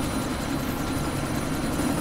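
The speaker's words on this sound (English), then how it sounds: "That chopper's about to take off." A helicopter readies for takeoff in the video game Deus Ex: Mankind Divided, giving a steady, dense rotor and engine drone that holds at even loudness throughout, with no voices.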